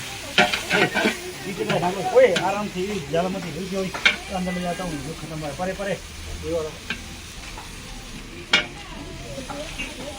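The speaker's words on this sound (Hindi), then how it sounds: "प्याज का तड़का लगाते हुए" Chopped onions sizzle and crackle in hot oil while being stirred around a pan, with someone talking over the frying.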